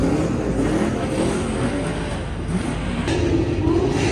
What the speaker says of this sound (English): Do it. One rev.